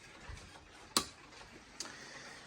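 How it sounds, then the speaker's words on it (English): A cottage clock that keeps time only, ticking quietly in a still room, with two distinct ticks about a second apart over a faint background hush. "the only thing that's running is my cottage clock"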